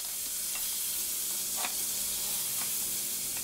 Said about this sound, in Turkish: Yaklaşık bir yemek kaşığı kadar kapariği de ekleyip şöyle kısa bir süre kavuralım.